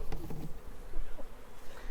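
Honey bees buzz in a dense, steady drone as they are installed into a hive, the hum close and moderately loud throughout with no talking.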